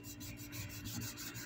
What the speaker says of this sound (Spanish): Vamos a cortar esta parte donde va el tallo del limón y esta parte de aquí